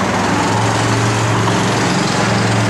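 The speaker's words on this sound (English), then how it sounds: "Again, 3-inch exhaust, so it's got a good sound to it." A 1970 Dodge Challenger convertible engine with a 3-inch exhaust runs steadily and close, a continuous rumbling drone with no talk over it.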